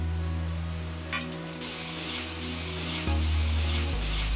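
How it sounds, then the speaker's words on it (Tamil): Mushroom biryani masala sautéing in a pan, a close continuous sizzle with soft stirring scrapes over a steady low hum, with no voices. "இது கொஞ்ச நேரம் வதங்கட்டும்."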